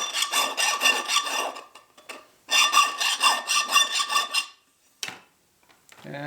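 Steel chainsaw file rasping across the teeth of a replacement round-tenon cutter blade, in two long runs of rapid, rhythmic back-and-forth strokes, close and loud, with brief pauses between.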